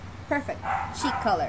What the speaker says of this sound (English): That is my neighbor's dog, which evidently is my dog's son or daughter